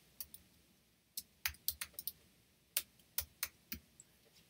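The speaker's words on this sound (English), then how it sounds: "Type in Google Groups, hit the Enter key, and a list will come up." Scattered, quiet keystrokes on a computer keyboard as a search term is entered into a search box, coming in short irregular bursts of clicks with pauses between them and no talking.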